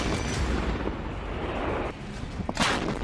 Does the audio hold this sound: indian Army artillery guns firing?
yes